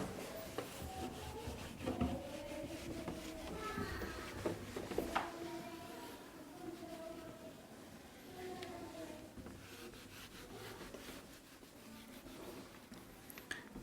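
Duster or cloth rubbing a classroom board in repeated strokes, a soft dry scraping close by, with a voice speaking faintly underneath.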